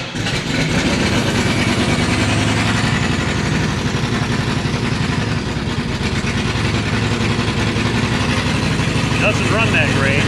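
A 1980s car with a suspect 2.8 engine and dirty oil, cranking over and then idling roughly and unevenly, a loud steady engine drone filling the whole stretch at close range.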